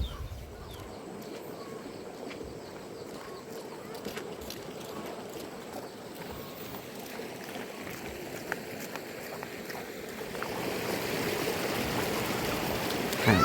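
Steady flowing stream water in a rural Lao village, a continuous broadband rush that swells louder toward the end, with faint bird calls scattered over it and no talking.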